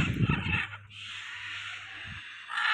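Black and white ducks calling at Rajarhat Newtown Eco Park: a few short, nearby quacking calls at the start and once more later, set against a steady outdoor hiss.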